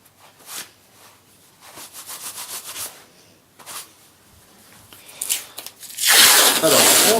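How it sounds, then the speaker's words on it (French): Masking tape peels off the roll in short crackly bursts, then ends in a louder, brighter ripping stretch as a length is torn away, close up and without talk over it. "on déroule notre bande, on regarde à peu près la taille, on la découpe"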